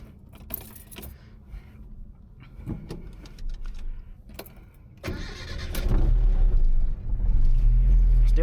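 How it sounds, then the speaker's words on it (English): A 1975 Chevrolet LUV pickup starts up. Keys jangle and there are clicks first, then the small engine cranks and catches and settles into a loud, close idle rumble. "Still runs great, still starts right up every day."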